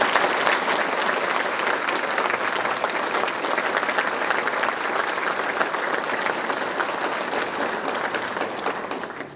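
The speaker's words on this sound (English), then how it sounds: "Let's all give our 50th graduating class a big round of applause" Sustained crowd applause fills a hall for the 2023 graduating class at Yokota, dense and even for several seconds before tapering off at the end.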